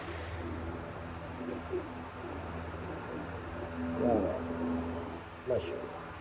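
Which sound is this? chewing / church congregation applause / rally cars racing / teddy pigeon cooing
teddy pigeon cooing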